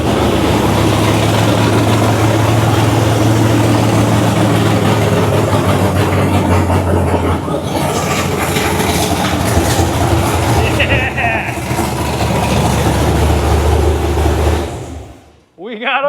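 A GM LS3 V8 fitted with Terminator EFI in a Squarebody truck runs with a steady, loud, continuous idle drone that holds for about fifteen seconds before cutting off, with people talking over it.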